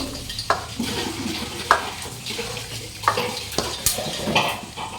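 Water used to rinse a blender jar goes into a pan on the stove and is stirred, giving a run of splashes and knocks of a spoon against metal over a low kitchen background.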